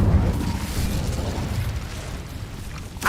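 In Hogwarts Legacy, an Incendio fire spell goes off with a whooshing, crackling burst of flame inside a cave. It lasts about three seconds and stays loud throughout, ending in a sharp click.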